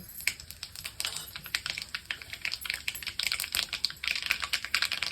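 Rapid, dense crackling and popping of mustard seeds and cumin spluttering in hot oil for tempering, steady and close with no talking.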